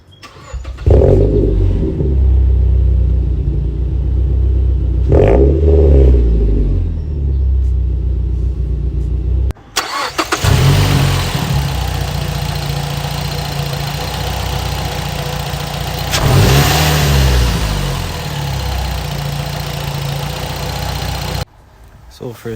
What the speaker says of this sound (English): I'm just gonna make a little startup just so you can hear the before and after sound of the exhaust and the intake